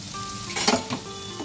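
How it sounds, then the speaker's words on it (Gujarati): Tomato gravy hitting hot oil with turmeric in a pan, a steady sizzle with a brief louder flare of spattering in the middle, close and alone. "હવે ટામેટાની જે ગ્રેવી છે એને બરાબર સાંતળી લઈએ"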